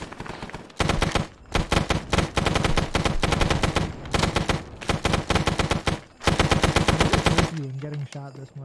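Sustained automatic gunfire from the Arma 3 Vietnam combat game, dense rattling bursts separated by short gaps, loud and close, ending in a lower droning tail.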